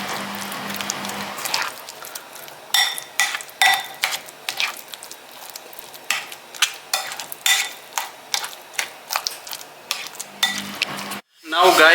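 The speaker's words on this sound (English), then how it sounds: "Again we start mixing" Guacamole being mixed with fresh lemon in a bowl, a run of regular scraping and clinking strokes of a utensil against the bowl, close and fairly loud.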